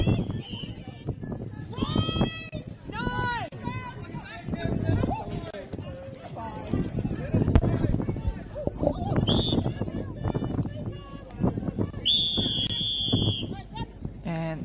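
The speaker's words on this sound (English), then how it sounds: "that is the whistle to end the second quarter of this match" At a netball match in the UNISS Netball Championships, a referee's shrill whistle sounds to end the second quarter. It cuts through a noisy, echoing hall with crowd chatter and a commentator's voice.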